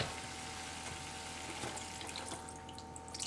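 Beef broth poured into a pan of reduced sauce for barbecued tournedos, a steady close splashing flow of liquid with faint sizzling underneath.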